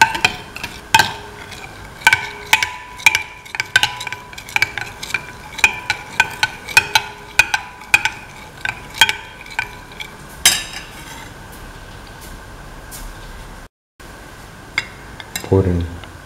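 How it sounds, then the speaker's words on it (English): Semolina pancake batter is mixed in a bowl, a spoon or whisk clinking against the sides in quick, regular taps close by, with a short pause near the end. "Mix thoroughly. Until it's nice and smooth."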